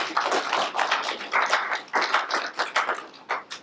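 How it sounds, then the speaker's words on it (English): A round of applause from a modest audience, a few people clapping in uneven, separate bursts at close range, with no talking over it. "Can we get a round of applause for them?"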